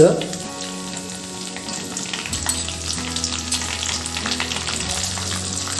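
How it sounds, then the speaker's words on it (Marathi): Roasted chana dal hits hot oil for a jowar murmura chivda and fries with a steady, close crackling sizzle. Bursts of spatter come at the start, and a low hum from the stove runs underneath. "तापलेल्या तेलात मी डाळ्या टाकल्या आहेत"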